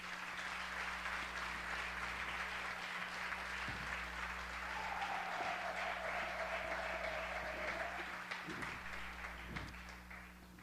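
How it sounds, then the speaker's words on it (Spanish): Congregation clapping in church during a Spanish-language conference on femicide: steady, moderately distant applause sustained for around ten seconds over a low electrical hum. "Le damos un aplauso al Señor."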